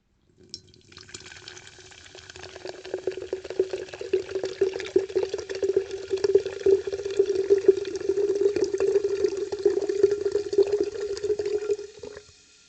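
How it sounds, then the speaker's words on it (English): Blue raspberry C4 energy drink poured into a glass in one steady, close stream that builds to a fizzy gurgle and then stops abruptly, with no talking. "if you come for the pour and turn the video off after I pour my drink"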